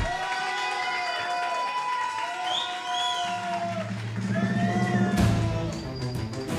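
An audience at a Drag Canarias-themed drag contest cheers and applauds a contestant, with high shouts and whoops riding over a wash of clapping, a low droning hum joining partway through, and the crowd swelling toward the end.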